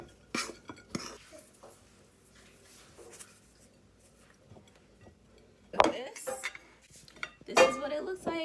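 Plates and cutlery clink as curry chicken with rice, dumplings, carrots and potatoes is served in a home kitchen: a few sharp, close clatters separated by quiet stretches, with a busier scrape of dishes near the end.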